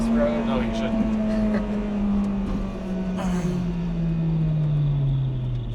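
A Honda Civic Type R driven fast on a road, its engine a steady droning hum from inside the cabin that slowly falls in pitch, with road and wind noise throughout and occasional voices.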